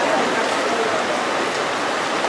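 Steady rain falling, a dense hiss of drops on surfaces that holds unbroken and fairly loud, with a faint voice beneath it.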